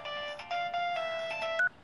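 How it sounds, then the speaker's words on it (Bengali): A phone rings with an incoming call: a short electronic melodic ringtone of bright, steady beeping tones, close and clear with no voices, lasting under two seconds. "আমার আবার একটা ফোন এসছে।"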